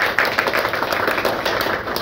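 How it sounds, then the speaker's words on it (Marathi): Audience applause at a Marathi community event held by an environmental and healthcare charity foundation: a dense, steady patter of many hands clapping for about two seconds, with no talk over it. "तर आपण पहिलं त्यांच्यासाठी एक टाळ्या वाजवूया"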